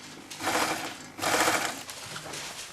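A sewing machine stitches a 1 cm seam at the shoulder of an unlined shirt-jacket, with two close bursts of rapid whirring stitching followed by a softer, uneven run.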